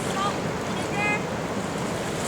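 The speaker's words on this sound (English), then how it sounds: "Somebody's swimming in the Whirlpool Rapids." Rushing whitewater of the Whirlpool Rapids in the Niagara Gorge, a continuous broadband roar heard from the bank with wind buffeting the microphone and faint voices underneath.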